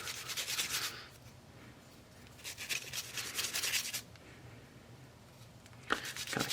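Cloth rag rubbing parts of a Sig Sauer P365 XMACRO pistol during cleaning: close, dry scrubbing strokes in several bursts, loud then pausing, with a final short rub at the end, no talk.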